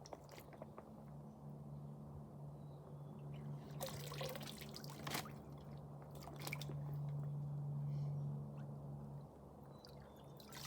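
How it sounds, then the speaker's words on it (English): Scooping muck and water from a pond, with soft trickling, sloshing and squishing sounds up close, two brief splashy bursts standing out over a low steady hum. "Let's take a scoop."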